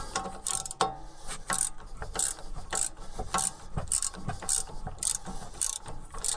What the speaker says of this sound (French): on place la clé de 15 pour bloquer l'ensemble et on dévisse